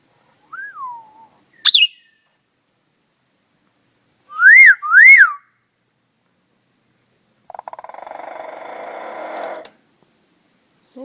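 A pet bird whistles in clear, separate phrases: a short falling note, a sharp rising chirp, then two matching upward-sweeping whistles close together, followed by a raspy, voice-like stretch that may imitate speech, all loud and close against silence.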